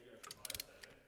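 A torque wrench clicking while tracks go onto a stock Toyota Tacoma: a few quick, faint ratcheting clicks in a short cluster, followed by one more click.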